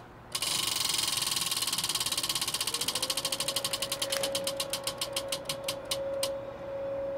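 A prize wheel spins with rapid, loud clicks of its pointer striking the pegs, the ticking steadily slowing into distinct separate clicks before stopping, with a faint tone underneath.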